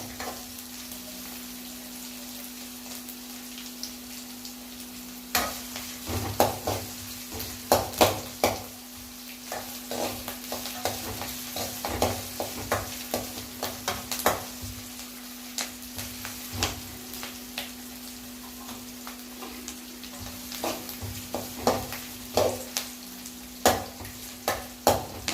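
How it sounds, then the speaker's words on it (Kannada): Onions fry in a pan for egg rice, hissing steadily, while a spatula scrapes and clicks against the pan in irregular bursts throughout; no voices. "ಈ ಥರ ಸ್ವಲ್ಪ ಹುಡ್ಕೊಂಡು ಸ್ವಲ್ಪ ಚೂರು ಕೆಂಪಗಾಗಬೇಕು ಈರುಳ್ಳಿ."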